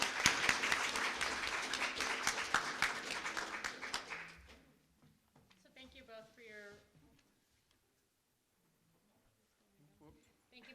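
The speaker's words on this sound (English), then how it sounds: "let's give a round of applause for our candidates" Audience applause for election candidates at a chamber of commerce candidates' forum, a burst of clapping for about four seconds that then stops, followed by a person talking in a quiet room.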